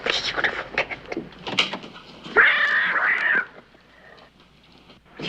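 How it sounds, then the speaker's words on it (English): A cat gives a drawn-out, fairly loud meow in the middle of a period-drama scene, with people talking before it and a door-like clatter nearby. "Oh, you beautiful cat."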